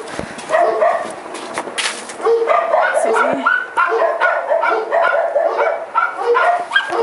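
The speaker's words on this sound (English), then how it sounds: "My dog choir." Several dogs bark and yip together at home in a loud, continuous, overlapping chorus, up close. A person speaks briefly over the barking.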